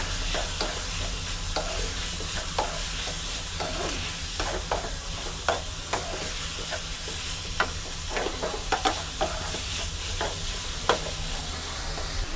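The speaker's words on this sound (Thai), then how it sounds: "ผัดไปกับเนื้อไก่เลยนะครับ" Chicken stir-frying with a little salt in a hot pan for Thai red curry with pumpkin: a steady sizzle punctuated by scraping and clinking of a utensil, close and continuous.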